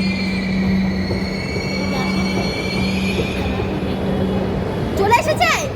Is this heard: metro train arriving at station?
yes